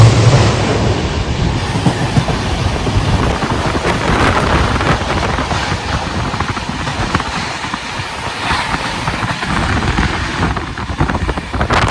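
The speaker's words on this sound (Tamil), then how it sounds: "ட்ரெயின் அப்படியே அனல் வேகத்தில் போயிட்டு இருக்கேன்." Double-decker passenger train on the Rajasthan to Delhi line running at high speed, heard from on board as a loud, steady rumbling roar with rapid rhythmic clatter of wheels over rail joints throughout.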